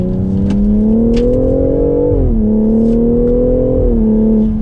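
BMW X4 M40i SUV with an M Sport exhaust, a loud, steady engine drone that rises and dips slightly in pitch as the revs shift, close and sustained with no talk.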